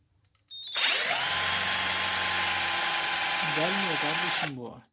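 A JCB Pro Plus cordless hammer drill whirs loudly at a steady high pitch for several seconds, then winds down, with a voice speaking briefly near the end.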